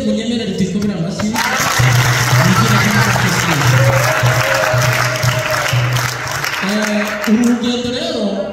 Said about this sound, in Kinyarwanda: Ni ukuri Imana yaturinze munyemerere tuyikomere amashyi.